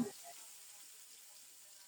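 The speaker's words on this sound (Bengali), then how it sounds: "এই তেলে শুটকি রান্না করব কুচানো পেঁয়াজ দিয়ে দিলাম" Chopped onion drops into hot oil for a dried fish curry, and after a brief soft thump a faint, steady sizzling hiss carries on alone.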